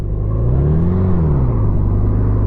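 A 1987 Honda GL1200 Goldwing motorcycle engine hums steadily at close range while riding, its pitch rising briefly and then settling back into an even drone, with no voices.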